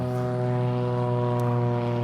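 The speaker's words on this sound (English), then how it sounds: "Let the helicopter go by." A helicopter passes overhead in Santo Domingo, a steady, loud droning hum with strong tonal engine harmonics, close and continuous through the short stretch.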